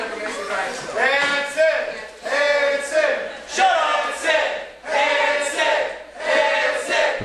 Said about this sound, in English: Crowd trying to rally Hansen